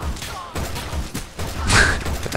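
Gunfire in the video game Resident Evil Revelations 2 comes as a few short, punchy bursts and thuds close by, mixed with other game noises.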